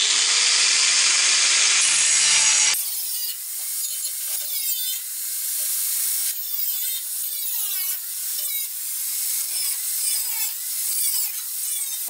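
Metal being cut during a car restoration, a steady rasping, sawing rhythm of repeated strokes up close, preceded by a brief, continuous, hissing tool sound.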